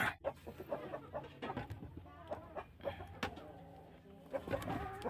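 Free-range chickens cluck and chatter close by in a busy, irregular flurry of short calls and murmurs, a few louder squawks breaking through, with faint human voices in the background.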